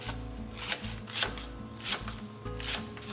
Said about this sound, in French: On s'attaque maintenant à la préparation des poireaux au lait de coco et on les coupe